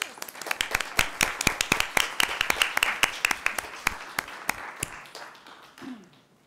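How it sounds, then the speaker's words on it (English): A small group of meeting attendees at a board of education meeting clap, with sharp, distinct, fairly sparse hand claps that thin out and stop after about five seconds, followed by a brief voice. "Yes, I think that we should clap."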